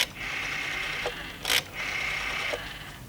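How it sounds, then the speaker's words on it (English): A telephone ringing tone heard through a receiver, two long buzzing rings separated by a short pause, clear and fairly loud. "It's ringing."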